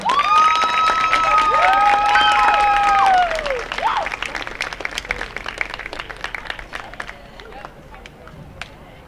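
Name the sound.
applause for the high school cheer squad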